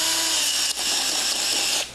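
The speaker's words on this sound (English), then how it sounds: "I'm going to drill down." A power drill bores down through ice beside a strap anchor during back-country winter fishing, giving a loud, steady high whine for about two seconds with a brief dip midway before cutting off.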